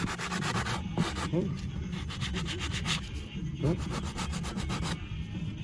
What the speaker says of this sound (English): Now I'm gonna take my sanding block here.